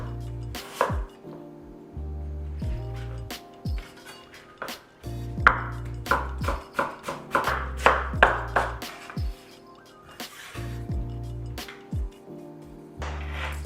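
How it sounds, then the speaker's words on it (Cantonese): A knife chops peeled taro into fine shreds on a cutting board, with rapid rhythmic bursts of close, crisp strokes that pause and resume, over low background music. "將佢去皮，然後切幼絲， 切得越幼越好"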